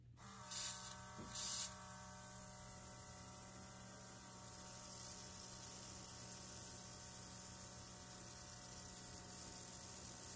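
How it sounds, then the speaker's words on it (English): Spray gun sprays thinned paint onto hand-carved balsa crankbaits. Two short hissing bursts come close together near the start, followed by a low steady electrical hum for the rest. "So the paint definitely needed more reducer. And it's spraying much better now."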